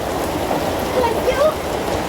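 Steady rain falls in an outdoor spot, a soft, even hiss of water spreading across surfaces with faint voices talking underneath.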